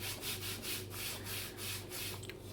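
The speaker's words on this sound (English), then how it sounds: "It probably needs a good rubbing with this generic disinfectant wet cloth" Wet disinfectant cloth rubbing over the plastic case of an Atari 2600 clone console, a close, rhythmic back-and-forth scrubbing in repeated strokes with no talk.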